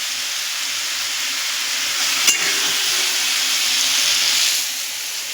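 Bottle gourd frying in a pan over a high gas flame, a loud continuous sizzling hiss with one sharp clack of a spoon or spatula partway through and a gentle swell as it is stirred.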